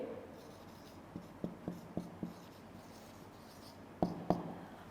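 A pen or marker writes letters during an online Class 6 geography lecture, giving a handful of faint, short scratchy strokes in quick bursts with quiet pauses between, no talking.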